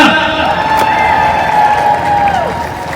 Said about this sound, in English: Everybody, round of applause for Yahya.